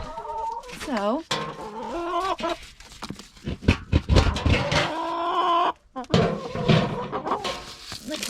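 Backyard hens cluck and call out on a trail walk, a close, busy mix of rising squawks and murmuring clucks, with a person speaking briefly among them.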